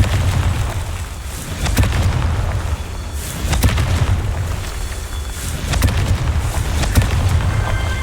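Repeated Confringo fire-spell blasts go off in the Hogwarts Legacy video game: several sharp explosive bursts spaced a couple of seconds apart over a continuous low rumbling game backdrop.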